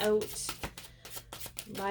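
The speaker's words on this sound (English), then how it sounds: "These do not want to shuffle." A deck of tarot cards riffles and slaps in short, soft bursts between a woman's speech, close and quiet.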